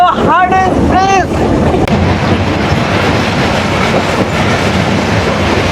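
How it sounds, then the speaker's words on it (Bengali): Kapotaksha Express passenger train pulling out of Mirpur railway station, with a couple of brief tonal calls near the start, then a loud, steady broadband rumble of rolling carriages carrying on to the end. "এই যে আমাদের কপোতাক্ষ এক্সপ্রেস ট্রেন শুরু হয়ে গেল।"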